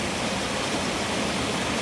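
Rain-fed forest stream during the rainy season, running full after recent rain; a steady, close, broadband rush of flowing water fills the whole stretch without pause or voices.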